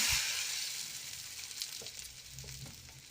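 Semolina-coated bread toast laid rava side down in a hot pan, crackling and sizzling steadily, loud at the start and easing slightly as it settles, with no talk.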